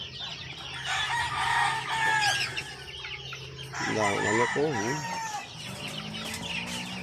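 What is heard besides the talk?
fighting cocks crowing and clucking on game farm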